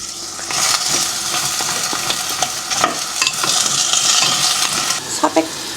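Ingredients stir-fry in two spoons of oil over high heat in a home kitchen, a bright steady sizzle broken by scraping utensil strokes and sharp clinks against the pan.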